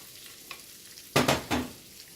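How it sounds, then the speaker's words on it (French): Bread frying in a pan to turn golden and crisp, a soft background hiss broken by two loud bursts of sizzling as the slices go into the hot pan, close and without speech. "je vais faire griller le pain pour que ça soit bien croustillant"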